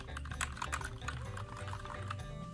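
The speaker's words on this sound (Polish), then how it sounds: "obczajcie po pierwsze na klawiaturkę" Rapid keystrokes clatter on a SteelSeries computer keyboard, an even, close, fairly quiet run of clicks with a low hum underneath.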